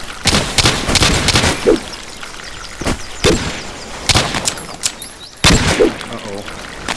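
Gunfire from the video game The Blood Rain, loud bursts of rapid shots and single cracks repeating irregularly, with players talking over the shooting.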